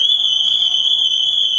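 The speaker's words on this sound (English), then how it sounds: "let me get the alarm off first" A steady, piercing electronic car alarm tone from a Lotus Evora 400 sounds continuously without pause, loud and close.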